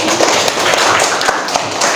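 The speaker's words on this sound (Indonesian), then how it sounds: "tepuk tangan dulu" A classroom of students applauds with dense, continuous clapping that runs the whole way through, near and fairly loud.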